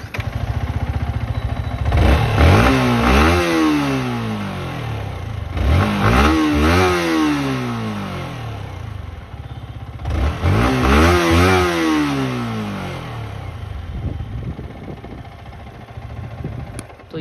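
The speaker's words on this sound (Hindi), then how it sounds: "तो सबसे पहले आपको हम MT15 का जो एग्जॉस्ट नोट है वो सुना देते हैं" Yamaha MT-15 motorcycle exhaust note, heard close up as three sharp throttle blips that climb steeply and fall back, separated by a steady lumpy idle that settles at the end.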